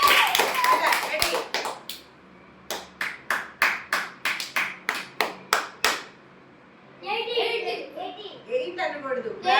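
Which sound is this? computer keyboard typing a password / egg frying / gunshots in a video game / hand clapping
hand clapping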